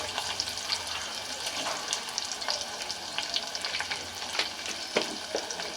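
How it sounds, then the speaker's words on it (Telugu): Onion pieces fry in a pan with a steady, close crackling sizzle and occasional sharper pops and stirring scrapes, fairly quiet and continuous with no voices. "దీంట్లోకి ఉల్లిపాయ ముక్కలు,"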